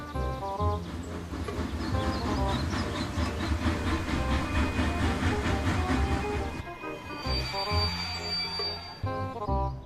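A steam train rumbles along the track, its engine pulling the cars in a steady, loud chugging drone with rhythmic beats that carries on throughout, then thins out toward the end.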